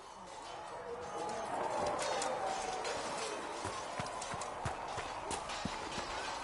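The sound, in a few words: horse hooves galloping, from video game Dragon Age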